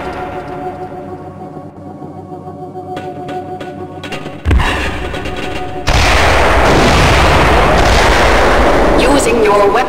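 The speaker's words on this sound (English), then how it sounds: "set the payload to cluster bomb and throw it at the next hologram target" A cluster bomb going off in the 2000 PC game Gunman Chronicles: a sudden boom followed by a second, louder blast that rolls into a sustained, roaring wall of explosive noise over a low background hum.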